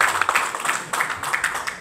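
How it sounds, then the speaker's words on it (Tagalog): Applause from an audience at a regional Kuya Eagle gathering in Caraga, a moderate patter of clapping that rises and falls in uneven bursts throughout, fairly close and steady. "Palakpak."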